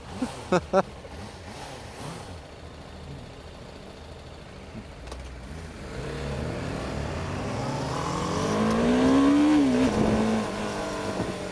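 A BMW G310R motorcycle with a racing exhaust, its engine rising from a low idle into a louder revving growl that climbs and falls in pitch, close by, with voices talking early on.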